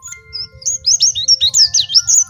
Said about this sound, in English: The nightingale's song is truly a gift to us all.